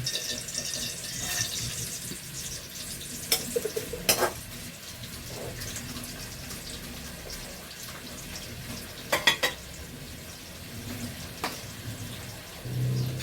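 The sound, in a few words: anchovies frying in oil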